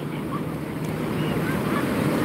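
Moderate ocean waves at Lampuuk beach in Aceh Besar, heard as a steady, close wash of surf with wind rumbling across the microphone throughout.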